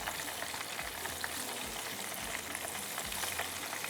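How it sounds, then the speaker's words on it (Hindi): Rice-flour-coated potato pieces fry in hot oil for dum aloo, a steady close sizzle and crackle with faint stirring bumps and no voices. "ये आराम से जो है यहाँ पर फ्राई होता रहेगा।"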